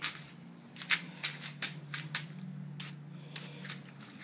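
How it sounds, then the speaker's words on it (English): Penetrating oil is sprayed on bolts of a 1975 Honda CB750 motorcycle in repeated short hissing sprays, a dozen or so quick bursts in an uneven rhythm, close by over a low steady hum. "Every bolt I see, I'm spraying."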